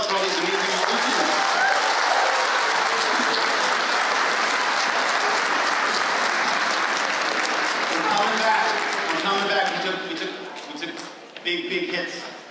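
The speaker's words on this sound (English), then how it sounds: "How about a round of applause for all these amazing musicians?" A school concert audience applauds the student musicians in a long, full burst of clapping that tapers off near the end, with a few voices mixed in.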